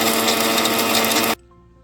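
A mixie jar grinder pulverizing dried chili for idli podi gives a loud, steady whirring roar for just over a second, then cuts off abruptly into near silence.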